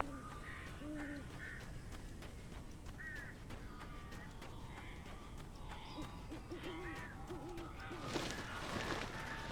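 Crows cawing in the horror video game Alan Wake Remastered, several harsh calls scattered over a steady ambient rumble, with a brief burst of noise near the end.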